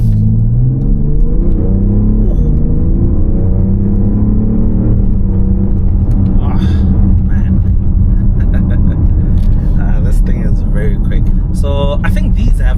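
A BMW X5 M50d diesel SUV's engine grumbles loudly from inside the cabin, a deep steady rumble rising as it accelerates, with someone talking over it throughout.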